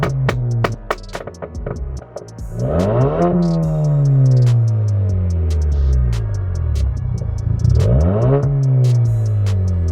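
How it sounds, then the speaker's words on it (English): Ford Focus ST Mk4 fitted with a Scorpion Predator GPF-back exhaust accelerates hard from close by, its loud engine note climbing through two strong rising pulls, with sharp crackles and pops at the start. "That was the initial test drive of the Predator system on the Focus ST Mark IV."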